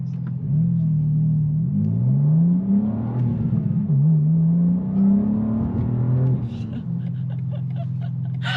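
A BMW 3.0 CSL with a manual gearbox revving as it drives, giving a loud near engine note that rises and falls through several pulls before settling to a steady drone.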